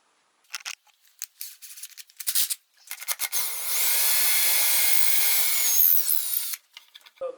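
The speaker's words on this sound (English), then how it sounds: "Let's drill some holes." A few short scraping bursts, then a power drill whirs steadily into dresser wood for several seconds, close and loud, before stopping.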